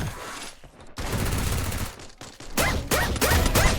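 Bursts of rapid gunfire in a mobile battle-royale shooter, loud and close, come in several volleys separated by brief pauses, with no one speaking over them.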